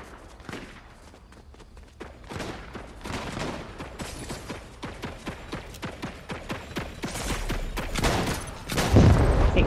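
Rapid video-game turret gunfire, a dense stream of punchy shots rattling continuously, building toward heavier booms at the end.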